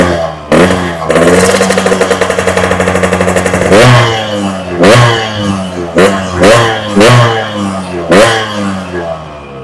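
A two-stroke Fuchs Titan Twin motorcycle exhaust blats loudly, revving up into a sustained buzzing drone, then snapping through a series of sharp throttle blips.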